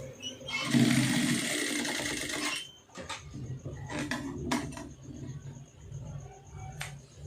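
A sewing machine stitching a sleeve seam: a brief steady mechanical whirr for about two seconds, followed by scattered light clicks and taps of handling fabric and tools, fairly quiet and close, with no voices.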